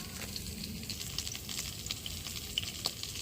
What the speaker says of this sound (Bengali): মাছের কাঁটাগুলো ভাজা হয়ে গেছে